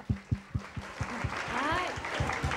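Children at a church Christmas gathering clap after a prayer, with a few distinct slow claps at first that blend into lighter scattered clapping under an adult voice talking.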